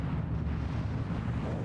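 Naval bombardment of the Normandy coast on D-Day, with nearly 200 battleships, cruisers and destroyers firing, comes through as a dense, continuous roar of heavy rumbling blasts, loud and muffled as in an old archival recording.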